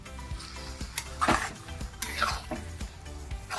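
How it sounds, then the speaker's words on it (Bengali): A spoon stirs semolina upma in a pan after water is added, giving close scraping and clinking strokes over a soft sizzle at low volume, with no voices. "এই জলটা দিয়ে একটু নেড়ে নিয়ে"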